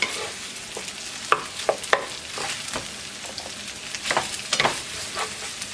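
Chicken fried rice is stirred and tossed in a hot pan, with repeated scraping strokes of a utensil over a constant sizzle, close and fairly loud.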